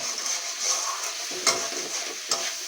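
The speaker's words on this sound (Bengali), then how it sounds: "ঠিকঠাকভাবে কষাতেই হবে যতক্ষণ মশলাগুলো গায়ে না লাগছে" Spices being stirred and sautéed in a hot pan give a steady frying sizzle, with a few sharper scrapes of the spoon against the metal, close by and with no talking.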